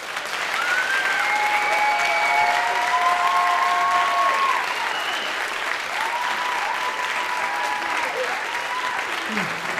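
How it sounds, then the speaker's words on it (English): Sustained audience applause at a high school spring musical, a dense even wash of many hands clapping with faint voices calling over it, steady for the whole stretch. "Guys, a round of applause"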